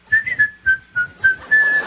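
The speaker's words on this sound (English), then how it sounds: "you guys whistle when you work" A person whistles a short tune close by: several quick, clear notes in a bouncing rhythm, ending on one longer held note, with nothing else heard.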